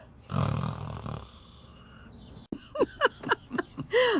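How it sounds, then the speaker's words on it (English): A person snoring indoors in a home setting, a loud rasping snore for about a second, then quieter breathing followed by a run of short, rising nasal whistles and snorts close to the listener. "We both snore."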